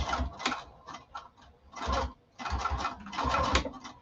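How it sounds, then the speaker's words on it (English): A sewing machine back stitching through fabric, running in short mechanical bursts with brief pauses between, close and moderately loud, with no talking. "So my line, and then I'm going to back stitch."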